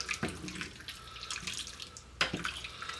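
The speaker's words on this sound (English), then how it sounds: "I'm going to put 1 cup of water in that just to get that going" A cup of water poured from close by into a pot of fresh apricots being cooked down for jam, a brief splashing, trickling pour with a couple of sharper splashes, heard alone.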